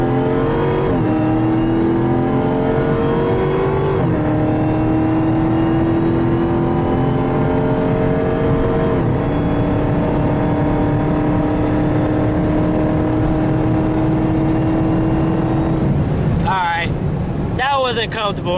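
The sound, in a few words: Dodge Charger Hellcat accelerating toward top speed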